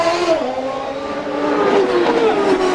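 A CART race car on the 2001 Detroit street circuit revs hard and pulls away from its pit stop. The loud, high engine whine sweeps downward in pitch as the car accelerates off, with nothing else in front of it.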